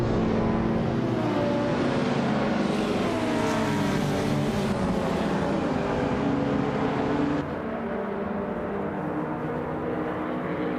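Classic 2000-era street cars racing at Macau in a video game, a dense, continuous roar of several engines revving and droning together, loud and close, easing slightly as the pack moves on, with no voices.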